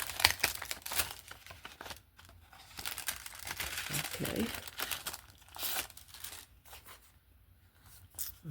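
A paper envelope, part of a mailed package, is torn open up close, giving rustling, crinkling and ripping bursts across several seconds, with soft handling noise between the tears.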